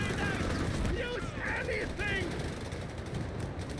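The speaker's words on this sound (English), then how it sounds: "Stuff exploding as the Greyhound just wildly fires all over the place here" Greyhound armored car firing wildly in the Company of Heroes 3 video game, with dense, rattling gunfire and explosions in a continuous loud battle mix and voices partly audible underneath.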